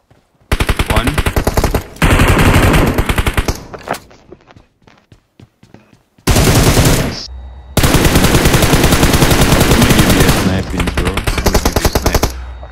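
Rapid automatic gunfire in an online shooter match, long loud bursts of rattling shots broken by short pauses with faint footsteps and clicks, then heavy sustained firing, with a few quiet voices in between.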